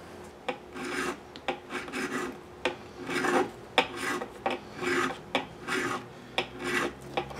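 A crowning file scraped along the frets of a Stratocaster guitar to take off sharp edges, a series of short, close, rhythmic rasping strokes with brief pauses between, and no one speaking.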